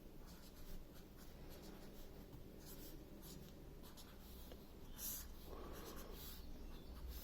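Pen or pencil writing out a maths formula by hand on paper, a steady close scratching that runs throughout at low volume with no voices.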